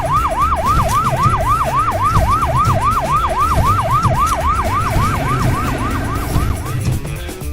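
Ambulance siren with flashing lights from a kids' vehicle video game, a loud rapid wailing yelp repeating about three times per second, steady and close before fading at the end.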